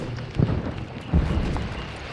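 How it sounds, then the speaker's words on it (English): Muffled, distant booms of World War II artillery roll through steady background rumble with small arms fire, a couple of heavier thuds standing out. "I can hear the sound of artillery and small arms fire in the distance"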